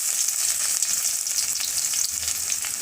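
Chopped garlic frying in hot oil with spluttering mustard seeds, a loud, dense, crackling sizzle that stays steady and close throughout, with stirring and no voices.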